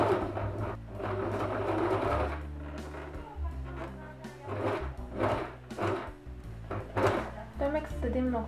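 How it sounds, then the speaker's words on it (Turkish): A home sewing machine backstitching a seam near a corner, its motor running in uneven stretches with short pauses and rhythmic needle thumps, close by, while someone talks over it. "Biraz önden başladım ve geriye doğru pekiştim yapıyorum."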